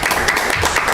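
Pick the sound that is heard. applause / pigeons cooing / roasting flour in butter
applause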